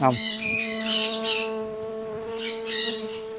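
Bees swarming around a man, their buzzing hum drifting in and out in soft swells close by, with a few bird chirps scattered through.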